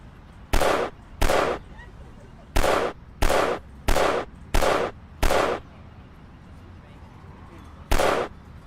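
Seven loud, sharp gunshots in the video game Chinatown Detective Agency, six fired in a quick uneven series and one more after a pause, close and dominant over a quiet background.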